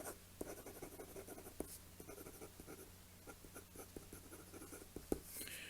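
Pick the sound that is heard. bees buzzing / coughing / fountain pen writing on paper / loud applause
fountain pen writing on paper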